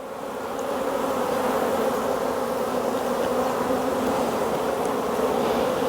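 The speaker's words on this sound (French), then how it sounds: "Alors c'est bourré d'abeilles au fond" Honeybees packed into the bottom of a hive frame hum in a dense, steady, close buzz with no voices over it. The hive is queenless and has honey frames.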